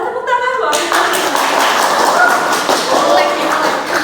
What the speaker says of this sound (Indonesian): Nah, boleh tepuk tangan Bang.